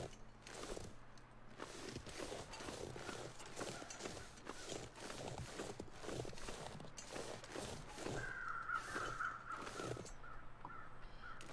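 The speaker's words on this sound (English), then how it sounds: "Can hear those crows." Crows caw repeatedly in The Long Dark video game, harsh calls at mid distance over a steady rhythm of crunching footsteps, with no talk.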